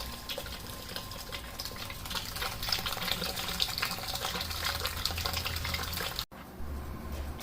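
Fuel rushing and gushing steadily as it is pumped out of the tank of a 2002 Buick LeSabre, a loud continuous liquid flow that cuts off abruptly near the end, leaving a quieter hum.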